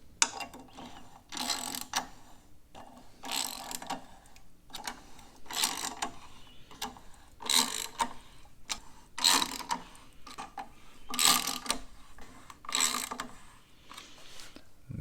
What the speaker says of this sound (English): I'll go one full turn on each bolt. And we'll keep going around until the pressure plate's in contact with the flywheel.